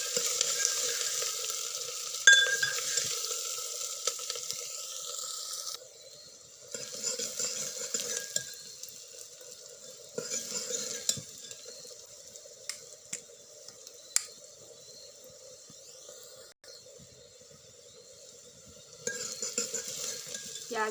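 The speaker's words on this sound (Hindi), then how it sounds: "प्याज डालेंगे, प्याज को अच्छी तरह पका लेंगे।" Onions cooking in a pan after cumin, with soft frying and occasional stirring scrapes that come and go in several stretches, sometimes dropping to near quiet, with no talking.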